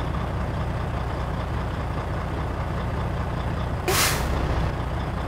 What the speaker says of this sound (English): My air governor cut out at 130 psi.